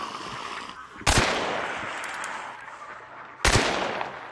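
Two loud, sharp gunshots in Hunt: Showdown, each cracking close by and trailing into a long echoing decay, roughly two seconds apart.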